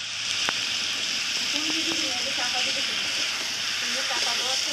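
Fish and eggplant cook over a wood fire, giving off a steady close sizzle and hiss with scattered small crackles and pops throughout.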